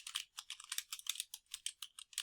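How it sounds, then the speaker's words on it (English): Someone types steadily on a computer keyboard, the keystrokes quiet, close and rapid in an uneven, continuous patter with no other sounds. "So I'll hit my tab key and then I'll start typing."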